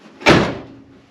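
The door of a 1959 Willys Jeep pickup is opened by hand, giving one loud, close metallic clunk and rattle of the latch and panel, then a short fading rumble.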